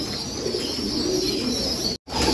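Pigeons in a loft coo and murmur steadily, forming a close, continuous bed of bird sound that breaks off briefly near the end.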